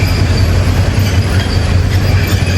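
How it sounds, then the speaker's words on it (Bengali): A passenger train standing at Tejgaon railway station in Dhaka rumbles with a loud, steady low hum from its engine and carriages, with faint metallic rail noise and no talk. "আমাদের ট্রেনটি অলরেডি থেমেছে এখানে তেজগাঁয়"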